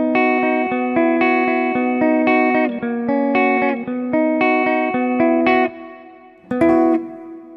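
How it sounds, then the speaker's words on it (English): Electric guitar played through a Kemper amp patch with reverb, sustained chords and notes ringing with a lingering tail, loud and close, no talk. "I'm just messing with the time and the reverb mix on here."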